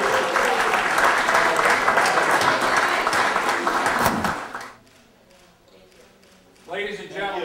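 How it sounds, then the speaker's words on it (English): Audience applauding the mayors of Rancho Palos Verdes at a city anniversary event. Loud, sustained clapping fills the room for about four seconds, then fades to near quiet before a voice begins speaking. "Give them a round of applause."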